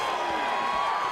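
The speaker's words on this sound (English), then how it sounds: "great reaction from the crowd" A large MMA fight crowd cheers and roars in a dense, sustained wall of voices with a loud, steady level throughout.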